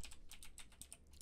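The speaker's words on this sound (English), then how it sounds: "Now you're going to begin by opening your developer console and typing in a variety of commands." Typing on a computer keyboard produces a quick, even run of soft key clicks, close but very quiet, with no voices.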